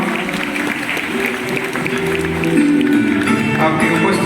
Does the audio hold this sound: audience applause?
yes